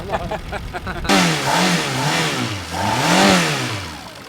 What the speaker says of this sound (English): sounds a little better. Sounds like my Ferrari again.